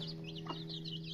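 Young chicks peck at a feed mixture of flour with garlic and ginger paste, giving a few faint, quick high peeps and chirps over a low steady hum.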